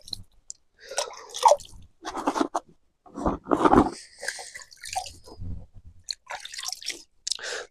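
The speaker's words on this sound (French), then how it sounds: "Donc moi je mouille, je remplis un fond de main et je le secoue dessus de mon seau." Water flicked from a cupped hand onto fishing groundbait mix in a bucket gives a series of close, wet splattering and squishing bursts separated by short pauses.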